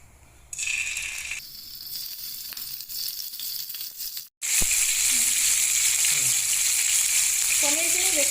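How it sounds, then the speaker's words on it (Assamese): Paneer cubes frying in about three spoonfuls of hot oil in a pan, a loud steady sizzle that starts softer, drops out briefly, then returns stronger with a few faint tonal clinks over it. "এতিয়া মই পনীৰখিনি ফ্ৰাই কৰি ল'ম"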